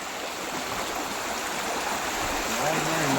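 Floodwater pours through a broken check dam with a broad, steady roar. The rushing is close and swells louder near the end.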